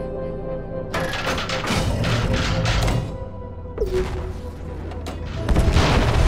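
Repulsion torpedoes striking an enemy battleship in a space battle video game, a string of loud booming blasts and crackling impacts in irregular bursts, with a sharp tonal effect sweeping through the middle.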